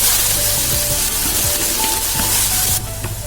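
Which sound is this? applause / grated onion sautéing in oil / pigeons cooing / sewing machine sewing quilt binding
grated onion sautéing in oil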